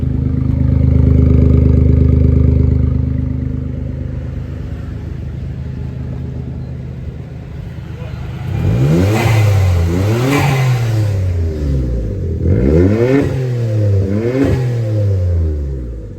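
A turbocharged Daihatsu Mira kei car engine hums at a steady idle, then revs up and drops back in a series of quick, rising and falling bursts, close and loud, no talking.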